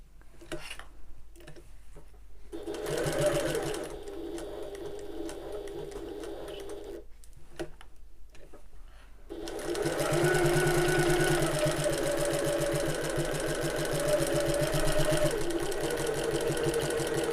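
A sewing machine top stitches a bag, running in steady bursts with brief stops where it pivots at the corners, then sewing a longer continuous stretch, close and clear.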